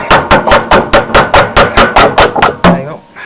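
A claw hammer strikes metal during homestead scrapping, about a dozen loud, close, evenly spaced blows in a steady rhythm before stopping.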